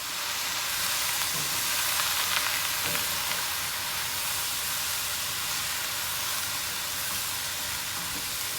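Shrimp lo mein vegetables with bean sprouts and carrots sautéing in a hot pan, a steady close sizzle and hiss running unbroken throughout.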